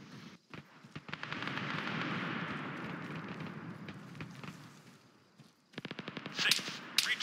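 Gunfire in the military shooter game Arma 3, with sustained automatic bursts and rumbling fire up close, a brief lull, then rapid, sharp rattling volleys near the end.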